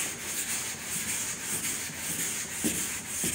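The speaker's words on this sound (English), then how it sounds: "You're just letting the sandpaper just glide across the panel." Sandpaper glides back and forth over primer on a 1961 Chevrolet Impala body panel, giving a continuous close, dry rubbing hiss with gentle rhythmic strokes and no talk.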